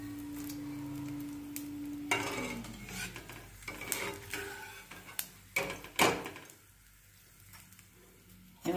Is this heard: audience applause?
no